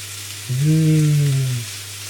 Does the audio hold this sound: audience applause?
no